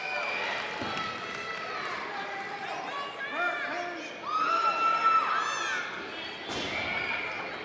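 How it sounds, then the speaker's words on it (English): Arena crowd at an independent wrestling show cheering and shouting loudly and continuously, swelling midway, with a commentator talking over it and occasional ring thuds. "Listen to this crowd."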